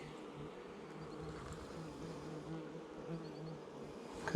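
Honey bees crawl over a hive frame in a recently split colony, producing a faint, continuous soft buzzing drone at low volume.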